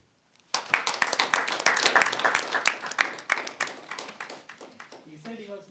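A Toastmasters club meeting audience bursts into applause after a speaker finishes, a sudden onset of many close hands clapping that stays lively, then tapers off, with a voice beginning to speak at the very end.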